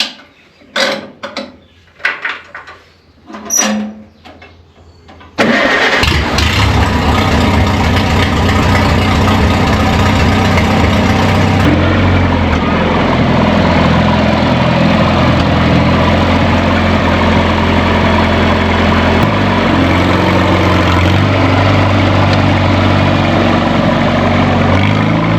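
A small tractor engine, stock around 21 horsepower, cranks over a few times, catches and settles into a steady, loud idle with a mechanical clatter, close by and with no talk over it.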